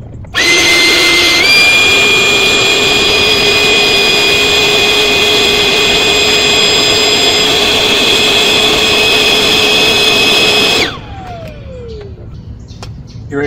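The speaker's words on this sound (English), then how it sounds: "But if you want to get it nice and all the air out, your pump" A small electric air pump sucks the air out of a SUV camping air mattress for a Jeep Cherokee, starting with a loud steady whine that runs for about ten seconds, then cuts off and winds down, leaving quiet room noise.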